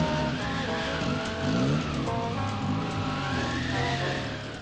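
Cars stuck in spring snowdrifts spin their wheels, giving a continuous whining, wavering tire skid and engine strain that rises and falls without pause in a snowstorm in Poland.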